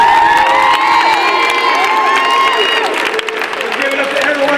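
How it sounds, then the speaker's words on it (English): A crowd of teens at a dance session cheers and applauds loudly, with shouts and whoops over dense clapping and a voice calling out near the start. "let's give a round of applause to BC on the sound."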